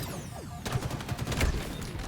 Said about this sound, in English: Rest in peace with that grenade blowing up in his face